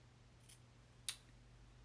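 Scissors snip cloth for hand stitching in a quiet setting, giving one faint sharp cut followed by a second brief snip.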